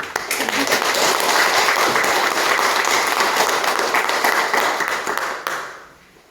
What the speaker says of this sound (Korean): 우리 박수로 또 환영하게.